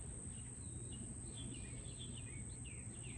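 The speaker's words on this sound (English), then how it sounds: "The birds singing is so beautiful." Birdsong on a morning outdoors: scattered high chirps and short warbling phrases come and go faintly over a steady low background hum, with no voices.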